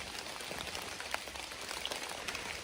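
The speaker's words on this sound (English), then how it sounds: "To top it off, it's raining, but it's not freezing cold" Light rain patters steadily on a deer hunting stand during a wet, mild evening at deer camp, a faint, even hiss with scattered soft drop ticks.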